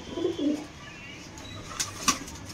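Punjabi pigeons with pale yellow eyes giving a couple of low coos up close, followed by faint clicks and a soft flutter in a quiet room.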